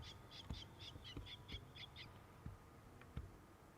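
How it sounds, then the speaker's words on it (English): Birds near Amsterdam Schiphol Airport give a quick run of about eight chirping calls, then a couple of isolated ones, faint and somewhat distant over a low background rumble, with a few dull thumps. "All kinds of bird noises I normally don't hear here."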